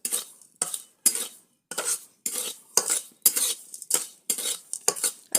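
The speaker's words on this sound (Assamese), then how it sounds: "এতিয়া লৰাই থাকিম, কোনো পানী নিদিওঁ ইয়াত" Utensil scraping and stirring dry sugar in a pan with no water added, about ten distinct rhythmic strokes, close and fairly loud with brief pauses between them.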